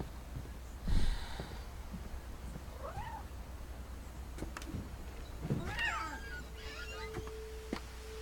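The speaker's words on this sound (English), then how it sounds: "It's a cat." Cat meowing in the video game What Remains of Edith Finch, a few short rising and falling mews spread out over a quiet ambient background, fairly faint with no one talking.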